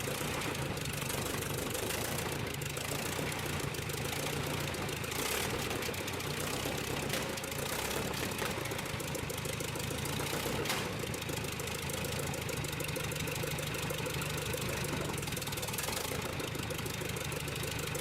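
A 100 HP Fielding hot bulb stationary engine, century-old crude oil machinery, runs in a steady idle with a constant knocking, mechanical churn, sustained and fairly even throughout with no voices.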